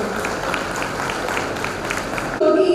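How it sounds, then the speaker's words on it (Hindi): Audience applause welcoming a guest at a Foundation Day 2025 ceremony of MPMKVVCL, the power company in Bhopal: a steady, dense patter of many hands clapping that carries on for over two seconds, then cuts off abruptly. "तालियों से इनका स्वागत करें।"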